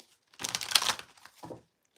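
Tarot cards are shuffled close by in a quiet room, a dry papery riffle and crinkle lasting about two-thirds of a second, then a shorter, softer burst of rustling, with no voices.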